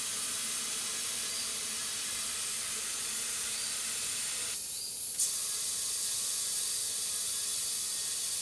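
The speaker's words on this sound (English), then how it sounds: "You will hear a little air leaking out." Air hissing out between an inner tube and tire on an antique farm wagon wheel, a steady faint hiss with a brief sharper burst of escaping air midway.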